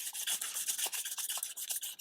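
A sanding block scrubs a crankshaft with worn 220 grit sandpaper, giving rapid back-and-forth rasping strokes, close and steady, with no talk.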